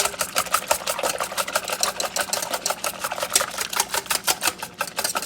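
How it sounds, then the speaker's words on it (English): An egg is beaten rapidly into milk for a batter, a fast, even run of close clicking whisk strokes against the bowl that continues without pause. "We're going to beat the egg."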